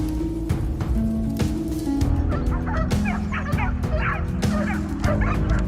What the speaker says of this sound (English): The distant barking of our dogs echoed through the forest